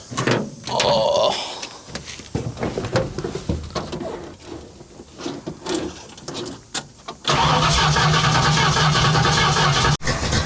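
A 1970 Ford Falcon with a 750 Holley carburetor cranks slowly amid some clunks and rustling, then fires and settles into a loud, steady idle close by.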